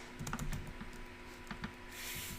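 Fast, close typing on a computer keyboard gives a quick run of light key clicks with a short pause, then a final burst, alone and fairly quiet.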